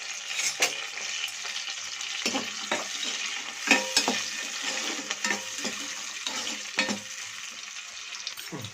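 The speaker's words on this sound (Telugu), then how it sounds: "ఉల్లిపాయలు వేగుతున్నాయండి." Onions and green chillies frying in a pan for a Godavari-style tamarind fish curry: a steady, close sizzle broken by repeated clatters and scrapes of stirring, with no voices.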